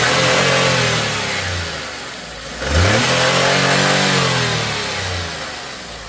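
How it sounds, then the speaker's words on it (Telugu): A Volkswagen Polo car engine revs up loudly, eases back toward idle, then revs again and slowly settles, close by with no talking. "చూసారు కదా ఇంజిన్ సౌండ్"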